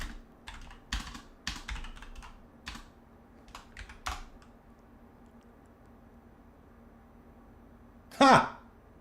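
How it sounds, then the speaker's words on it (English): Keys clatter on a computer keyboard in several quick bursts of typing over the first few seconds, then fall quiet, followed by a short loud vocal outburst near the end. "Well, let's just type in."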